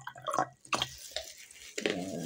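Tap water runs and trickles into a container for a salt gargle, with short splashy drips and a steadier pour near the end, close up and fairly quiet.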